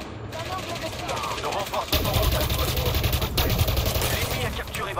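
Sustained rapid automatic gunfire in the video game Elite Dangerous Odyssey, loud and continuous, swelling in intensity partway through, with a voice speaking over it.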